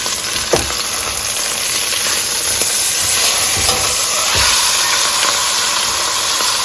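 Beef searing in a hot pot for a pot roast gives a steady, close sizzle and hiss of frying that runs continuously, with a few soft low knocks from the pan.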